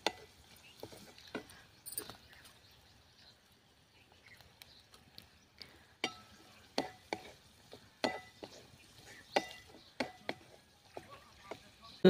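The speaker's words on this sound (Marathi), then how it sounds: "आता पुन्हा एकदा आपण परतून घेऊया." Brinjal bharta with turmeric and asafoetida being stirred in a pan, giving irregular scraping and tapping of a spatula against the pan over a quiet background, with the strokes louder toward the end.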